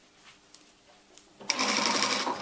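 A sewing machine stitches a seam during a hot pants alteration, kicking in abruptly after a quiet stretch and running loud and steady to the end, with no talk over it.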